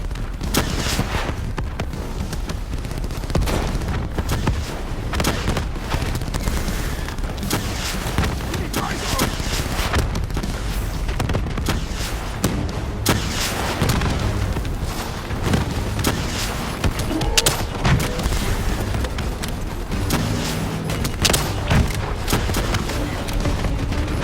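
Dense, continuous gunfire and booming blasts in the Call of Duty: Black Ops 3 shooter game, loud and sustained throughout the battle, with voices speaking over the barrage.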